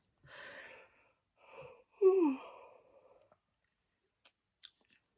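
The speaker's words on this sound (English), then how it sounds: "sorry for the yawn there" A drawn-out, breathy yawn with a rising and falling vocal groan, close and quiet, followed by faint small clicks and near silence.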